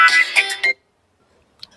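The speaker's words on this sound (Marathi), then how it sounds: "मम्मी दादाला फोन येतो." A mobile phone ringtone for an incoming call, a short, loud burst of repeated electronic tones that stops abruptly and leaves near silence.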